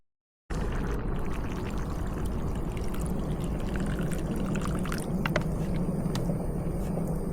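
Water pours steadily from the start into a pot of curry, a continuous close splashing stream running unbroken with no talk.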